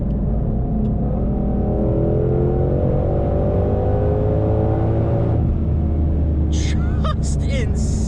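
A supercharged Ford Shelby GT500 accelerates hard, its engine note climbing steadily through the gears with a loud, close cabin rumble and supercharger whine, then dropping at a shift before a few squeaky sounds at the end.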